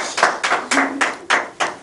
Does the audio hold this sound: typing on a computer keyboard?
no